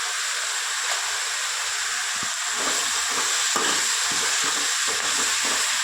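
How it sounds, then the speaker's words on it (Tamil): Dried red chilies fry in a pan alongside chopped tomato in a home kitchen, a loud close continuous sizzle and hiss with soft stirring scrapes, no talking. "இப்போ வந்து நம்ம காஞ்ச மிளகாய் வந்து அதில் போட்டுடலாம்."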